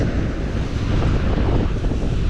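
Strong sea waves churn under heavy wind, a loud, continuous roar of surf and gusts buffeting the microphone, with no voices.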